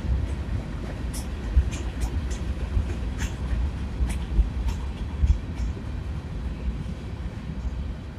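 Union Pacific freight train with coal hoppers rolling past at a slowing pace, a steady low rumble of wheels with periodic clanks and rail clicks, close and continuous throughout.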